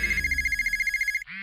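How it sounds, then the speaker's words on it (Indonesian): A mobile phone rings indoors with a fast, rapidly pulsing electronic trill that repeats steadily for about a second, then cuts off abruptly and is followed by a short different tone. "Ma, HP-nya berisik."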